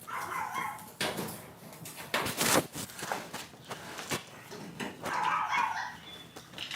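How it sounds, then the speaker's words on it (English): A dog barks several times and whimpers between the barks, fairly faint and intermittent, with a few thumps like footsteps. "Oh, gosh, the dog."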